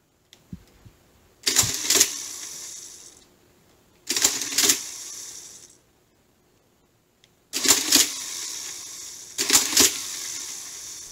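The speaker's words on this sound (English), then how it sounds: "When you loosen up this screw, you can adjust this to change the speed of the machine." An Olivetti Divisumma 14 mechanical calculator runs in four loud, close bursts of whirring, clattering gear noise, each lasting about a second or two and separated by silent pauses.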